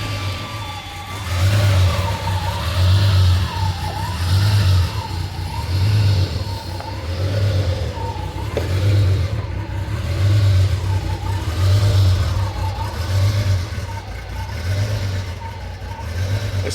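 A 1987 Ferrari Testarossa engine idles after a cold start, heard from behind at the exhaust, with a low, loud rumble that swells and dips in a regular rhythm as the idle hunts.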